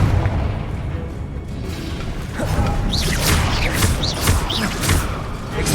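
Fire spell blasts in the Hogwarts Legacy video game boom out amid combat, deep rumbling explosions with crackling bursts and swooshing effects layered over a dense game soundscape.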